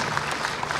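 Brief burst of audience clapping at a public event in Indore marking an ₹800 crore gift from the Chief Minister, dense and steady throughout, with faint voices beneath.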